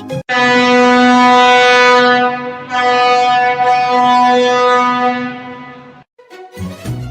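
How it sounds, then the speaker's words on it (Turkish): A ship's horn sounds a long, loud, steady blast lasting about six seconds, a deep rich tone that dips briefly midway and then cuts off, followed by a short burst of other noise. "Gemi işte böyle ses çıkartır."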